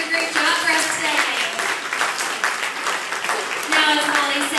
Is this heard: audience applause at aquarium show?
yes